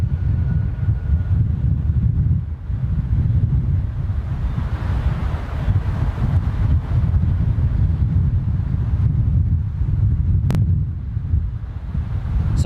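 Heavy headwind buffeting a microphone at an airport, producing a steady loud low roar of gusting wind with no other clear sounds.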